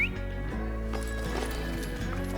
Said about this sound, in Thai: ขี่ม้าไปนะครับ นี่ก็เป็นการขี่ม้าของคาวบอยนะ